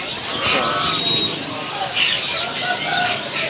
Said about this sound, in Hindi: ये क्या चाइना मुर्गी के बच्चे हैं? चाइना मुर्गी के बच्चे हैं।